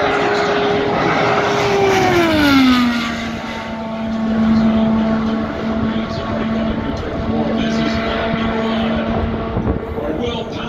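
Will Power's Chevy-powered IndyCar screams by at Indianapolis during qualifying, its high engine note sliding down in pitch as it passes, then a sustained distant whine, with a commentator talking over it.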